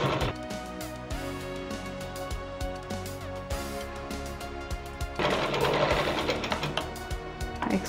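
A sewing machine stitches a strip folded along a blouse's front neckline, rattling in quick steady bursts with brief pauses, then running faster and louder toward the end, close by with no talk.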